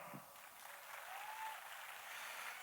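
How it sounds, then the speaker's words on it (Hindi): Applause from a gathered audience at a wellness business meeting, a steady, even wash of clapping heard faintly and from some distance. "जोरदार तालियां।"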